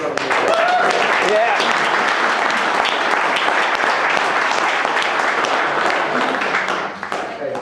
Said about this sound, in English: give yourself a massive round of applause